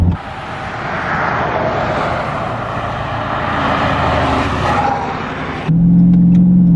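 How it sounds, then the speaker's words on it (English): A Dodge Charger Scat Pack muscle car accelerates hard, with a steady, loud engine roar heard from inside the cabin. The note changes abruptly near the end as the transmission shifts quickly. "There's so much torque. It just takes off. This shifts really fast. Did you hear that?"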